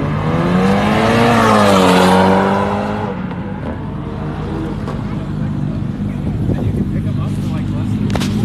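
An Audi R8 leaving a Texas car meet does a burnout, its tires squealing and engine wailing loudly up and down at first, then easing into a rougher, sustained roar under crowd chatter.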